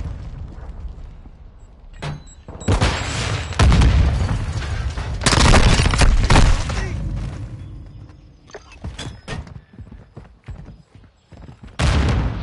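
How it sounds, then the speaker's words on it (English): Cruise missile explosions in a video game: heavy, broadband booms burst out in waves with crackling, gunfire-like rattles between them, loud and close. Faint voices murmur underneath. "Hostiles launched a cruise missile."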